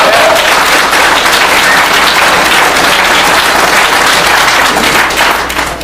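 Debate audience at Western Carolina University clapping passionately, a dense, loud, sustained wash of applause from a large crowd that holds steady throughout and begins to fade only at the very end.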